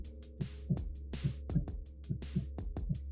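Heartbeat effect from the horror game Fledgling Manor, a steady run of soft, low double thumps over a constant low hum, about two beats per second, alone with no talk.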